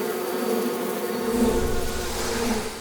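An animated cartoon insect swarm drones with dense, continuous buzzing that swells slightly and fills the short moment, with no talk over it.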